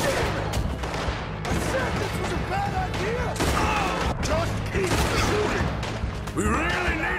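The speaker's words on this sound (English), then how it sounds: "Just keep shooting!" Gunfire in the video game Red Dead Redemption 2, dense overlapping shots and booms in a loud continuous firefight, with voices shouting underneath.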